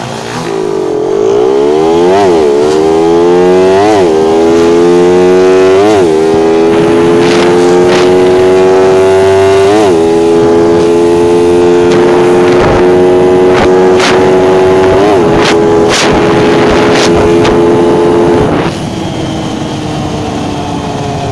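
Two carbureted 150cc motorcycles, a Sniper 150 and a Raider 150, drag racing: loud engines rev and climb through gears with repeated upshift dips, a steady high whine sustained near and strong before cutting off at the end.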